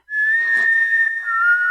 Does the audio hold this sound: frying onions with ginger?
no